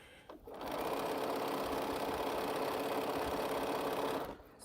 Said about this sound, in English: Just sewing some strip sets